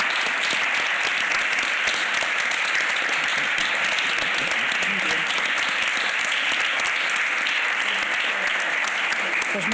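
Sustained, evenly textured applause fills a climate-security conference hall, a large audience clapping steadily and loudly for nearly ten seconds without pause.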